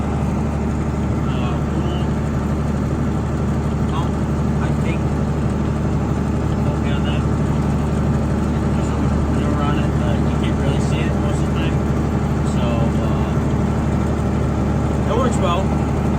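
An engine running at half throttle gives a steady, even mechanical drone with a low rumble and a constant hum. It stays at a level volume for the whole stretch, with faint clanks over it.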